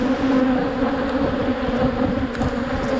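Dense swarm of bees buzzing steadily around an open beehive as frames are lifted and inspected, a close, continuous droning hum with no talk.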